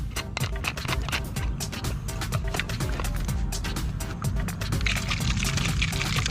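A bottle of homemade plastic cleaner liquid for car trim being shaken, giving a steady, continuous sloshing and rattling that stays loud and even throughout.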